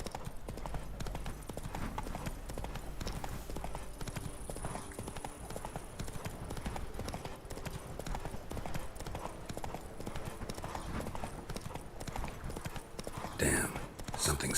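Roach, a horse in The Witcher 3: Wild Hunt's Blood and Wine expansion, gallops with a steady, rhythmic clip-clop of hooves, close and continuous, ending in a brief louder burst.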